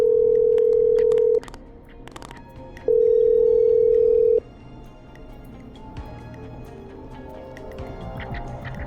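Telephone dialing in the Killer Frequency video game: two long, steady dial-type tones, each about a second and a half, separated by a short gap, followed by quieter background hum.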